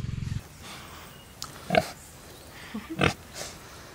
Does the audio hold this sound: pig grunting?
yes